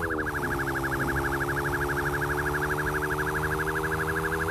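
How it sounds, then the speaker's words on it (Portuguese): The horn of an XRE motorcycle in a GTA-style video game: a steady warbling electronic tone repeating rapidly and evenly throughout, loud and continuous over a low hum. "A buzina da XRE."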